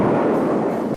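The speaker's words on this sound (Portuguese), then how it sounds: "explosões" Cartoon explosion effect from Tom and Jerry slapstick, a loud rumbling blast sustained for about a second before cutting off abruptly.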